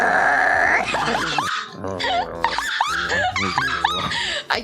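A person imitates a dog's growl with their voice, producing gravelly, strained growling sounds in several uneven bursts, loud and close, with bits of talking mixed in.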